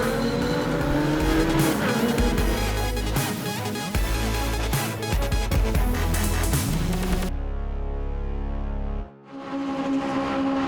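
Legends race cars at Pembrey circuit, a pack of loud buzzing engines racing close by with shifting pitch, then the roar drops away abruptly and a quieter engine note carries on near the end.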